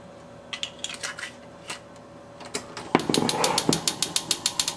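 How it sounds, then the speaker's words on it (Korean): Enoki mushrooms have their base cut off and their strands pulled apart by hand, giving scattered sharp clicks and taps that end in a quick, steady run of close knife-like knocks. "버섯은 밑둥을 자르고 손으로 가닥가닥 분리시켜주세요."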